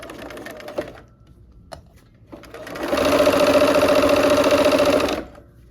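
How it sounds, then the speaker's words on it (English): A sewing machine stitches quilt pieces together, running in a steady loud mechanical whir for about two seconds after a few short clicks and hesitant starts, then slowing to a stop. "We will go ahead and start sewing."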